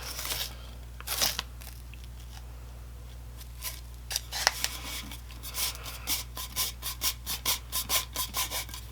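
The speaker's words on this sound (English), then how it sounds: "I'm just going to tape that off so I don't get any of the easy marbles where I don't want them to be." Tape is pulled and pressed onto a tapered tumbler to mask it before hydro dipping, heard as close, quiet rips and rubbing strokes that settle into a quick rhythmic series of short scrapes, with no talking.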